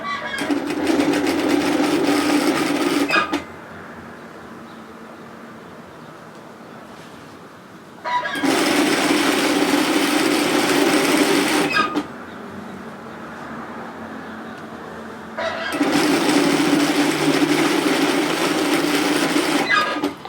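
A sewing machine stitches a strap on a knit one-shoulder sweater in three loud, sustained runs, each separated by a quiet pause.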